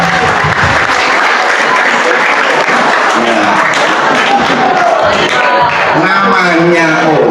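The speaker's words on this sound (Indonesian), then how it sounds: "Tepuk tangan tuh Pak Cus Mulkuan." Students and teachers clapping during a religious lecture at a junior high school, loud continuous applause with crowd noise and voices calling out over it.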